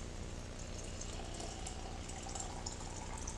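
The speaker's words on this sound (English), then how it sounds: "I've got a kettle boiled here, so we're going to go ahead and add water to these jars." Boiling water poured from a kettle into canning jars for green lentils, a steady close trickling and filling gurgle that runs continuously without pause, no talking over it.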